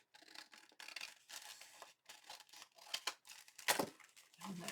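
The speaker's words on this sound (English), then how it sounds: "And then I'm going to cut this edge off." Close, quiet scissor snips trim a paper edge off a handmade Halloween junk journal, in short irregular cuts with faint rustling between them.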